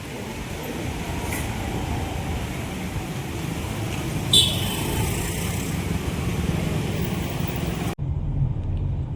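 Car driving along a road through Aarey Colony toward Powai, a steady close rumble of engine and tyres from inside the vehicle, with a couple of brief higher passing noises before it cuts off abruptly.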